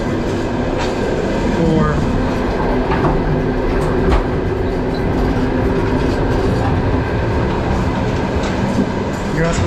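A night train in Kazakhstan rumbles steadily along the rails, with a dense, loud roar from the carriage interior and faint rhythmic clacks from the wheels.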